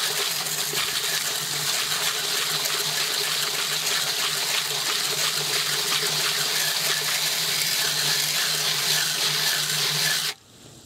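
A hose sprays water steadily onto a D.E. pool filter, giving a loud, continuous hiss and splatter close up that cuts off abruptly near the end, leaving a faint background.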